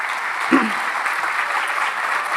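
Sustained applause from a concert crowd for the Orquesta Filarmónica del Litoral, an even roar of clapping with a brief voice-like sound near the start.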